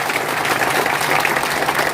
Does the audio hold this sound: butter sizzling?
no